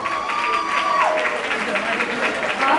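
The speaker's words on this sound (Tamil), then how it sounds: "அவங்களோட பெரிய கைதட்டு." Audience applause at a Tamil stage show in Singapore, dense steady clapping with some crowd noise and a held whistle-like tone over it, continuous throughout.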